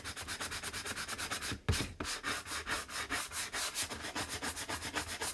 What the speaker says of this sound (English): Now, I do want to sand because I'm addicted to sanding these.